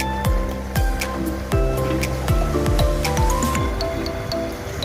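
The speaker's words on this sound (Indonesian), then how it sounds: "Inilah suasana Pantai Ulakarang, Kota Padang." Surf at Ulak Karang beach in Padang, West Sumatra, on the Indian Ocean shore: steady broadband wash of waves with repeated sharper splashes and drips, close and fairly loud, no talk.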